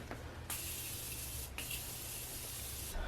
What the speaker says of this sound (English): I'm gonna use my Morphe setting spray.